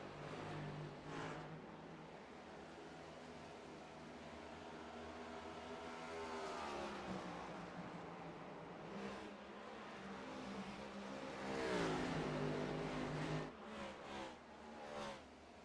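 Race car engines roar loudly in a sim racing game at Iowa, a continuous wall of engine drone with rising and falling pitch as cars pass and rev, swelling near the end.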